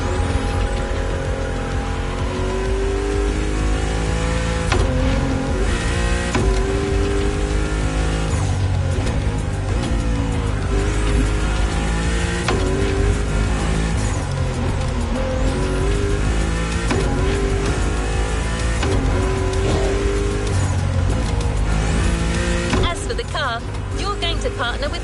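Ferrari 308 GTS driving in The Crew racing game, set in Hawaii: a steady engine drone with shifting revs runs continuously under game music and voices.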